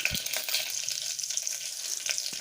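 Mustard seeds and two dried red chillies sizzling in hot oil for South Indian sambar, a steady close crackle with scattered sharp pops from the bursting seeds.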